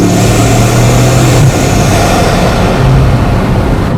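Bugatti Mistral engine revving, a loud close roar that surges and dips briefly over a few seconds, heard alone with no talking.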